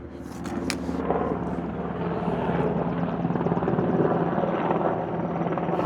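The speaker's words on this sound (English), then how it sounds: "Chopper coming, if y'all can hear it." Helicopter approaching, its rotor chop steadily building into a loud, pulsing drone over several seconds, with a few faint clicks at the start.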